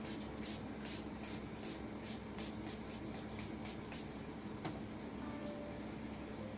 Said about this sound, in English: the last but certainly not least is my Milani Make It Last setting spray